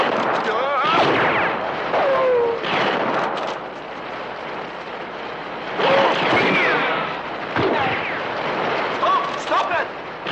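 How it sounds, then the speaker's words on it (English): Rifle shots and exploding dynamite in a 1962 monster film: repeated heavy booms and blasts roll through a busy, loud scene, mixed with shouting voices and dramatic noise. "Use your rifle. Shoot the dynamite."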